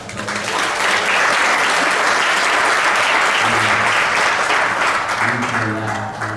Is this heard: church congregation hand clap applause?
yes